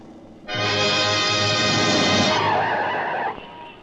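A taxi driven fast through Bombay in a film scene, its tyres letting out a loud, sustained screech that starts abruptly, holds for about three seconds, then cuts off.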